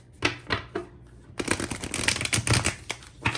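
A few soft flicks, then a quick, crisp riffle of thick tarot cards being shuffled close by, with light taps toward the end.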